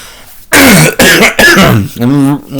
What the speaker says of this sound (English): This cough is terrible.